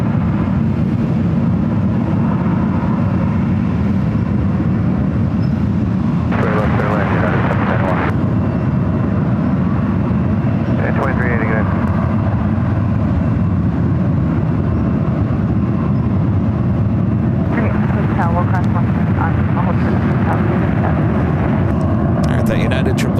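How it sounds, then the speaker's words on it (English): A United Boeing 777-300ER airliner at San Francisco airport, a loud continuous jet roar that holds steady throughout, with someone talking over it. "That United 777-300ER heading to the 28s, crossing over the ones"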